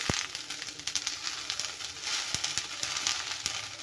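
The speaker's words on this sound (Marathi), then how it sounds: "मेथी पण आपल्याला छान तेलामध्ये परतून घ्यायची आहे" Fenugreek seeds, added after sesame seeds, fry in hot oil for a chutney, giving a steady close sizzle with scattered sharp crackles and pops.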